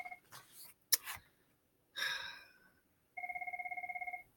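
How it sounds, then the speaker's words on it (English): A telephone gives a rapid electronic trill for about a second, after some breathing and rustling sounds, with no one speaking. "My phone's ringing."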